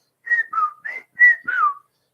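A person whistles five short, clear notes with pitch slides, imitating a whistle heard outdoors at night about 25 to 30 yards away; each note is loud and close with brief pauses between.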